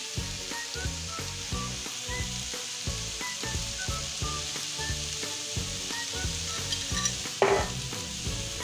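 Spinach filling sizzles in a frying pan while a spoon stirs it in steady, regular scrapes, the hiss of frying running continuously underneath.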